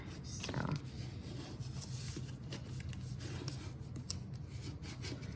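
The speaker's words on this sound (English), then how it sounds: "now I'm gonna come along the side and fold them again" Paper gift box being folded along its score lines, giving steady rubbing and creasing sounds with soft scraping, continuous and close throughout.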